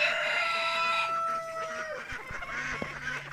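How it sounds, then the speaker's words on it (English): Chickens and a rooster are heard on a farm with ducks nearby: a sustained crow-like call fades into close, scattered clucks and squawks, with no talking. "This is the rooster we got last year."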